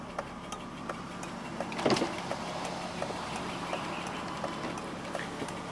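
Electric power window motor of a 1995 BMW 325i E36 whirs quietly inside the car, a low steady hum with faint clicks and a brief louder knock near the start.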